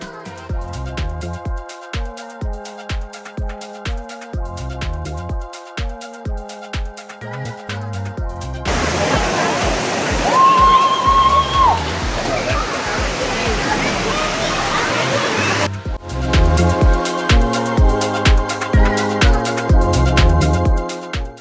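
The waterfall at Sliding Rock, North Carolina, a loud, steady rushing roar of falling water lasting several seconds, with music playing before and after it.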